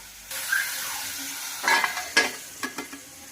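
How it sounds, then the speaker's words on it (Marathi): Chicken pieces being stirred in a pan before being covered to simmer without added water, with a steady sizzle broken by several sharp scraping and clinking strokes near the end. "यावर झाकण ठेवून असंच आपल्याला पाच सहा मिनटं याला उकळू द्यायचं आहे न पाणी घालता"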